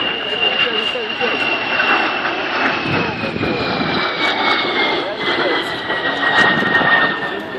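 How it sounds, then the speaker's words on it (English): A de Havilland Vampire jet in original SAF colours flies past at an air display, its steady loud roar with a slowly falling whine filling the whole stretch, continuous and close, with crowd murmur beneath. "De Havilland Vampire, painted up in its original SAF colors."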